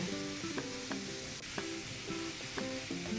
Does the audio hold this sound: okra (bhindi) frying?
yes